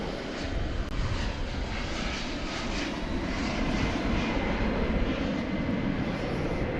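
A UPS MD-11 jet takes off at DFW Airport at night, its engines a loud, steady roar that builds slightly and fills the whole stretch without any voices.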